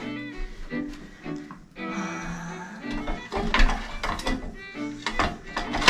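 A bicycle wheel being fitted and tightened onto the bike, with close metallic ratcheting clicks, clanks and a whirring freewheel buzz, moderately loud, no talking.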